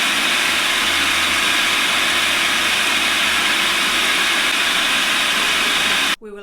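A kitchen stand mixer runs steadily at high speed while beating keto cake batter, a loud, constant motorized whir that cuts off abruptly at the end.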